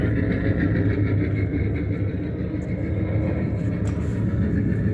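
An EMD SW1200 locomotive engine sound played from a 1.5-inch scale, 7.5-inch gauge R/C model's sound card through a subwoofer, a steady low diesel rumble idling evenly throughout, no voices.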